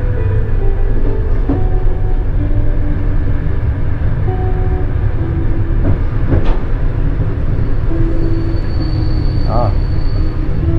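A passenger train running along the shore of Lake Baikal, heard from inside as a loud steady rumble with rhythmic rail clatter and occasional squeals, with a voice speaking over it.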